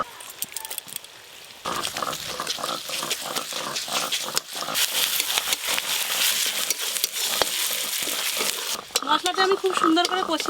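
Ginger, garlic and onion frying in a pan with cumin and dried chili paste, a busy close sizzle broken by repeated scraping stirs, louder and denser after the first seconds.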